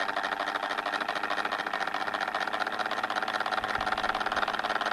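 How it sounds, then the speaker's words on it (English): A small electric motor spins inside a homemade mechanical television set, making a faint, steady whirring buzz with a light mechanical rattle throughout and no speech. "See if I can do some more motor adjustments."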